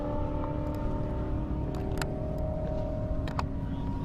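A race car engine at a half-mile airport drag strip runs steadily with a low rumbling hum, heard at a distance with a few faint higher tones over it.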